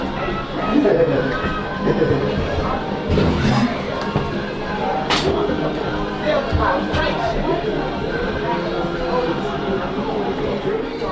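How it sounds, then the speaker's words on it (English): Crowd at a minor-league football championship game between the NJ Wolves and LV Storm at Salisbury High School in Allentown, a steady hubbub of chattering voices and scattered shouts with occasional thuds, fairly close and continuous. "crowd audio"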